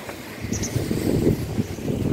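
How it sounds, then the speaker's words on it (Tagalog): Strong, cold seaside wind buffets the microphone in a steady, low roar, with no other clear sounds. "Lakas ang hangin."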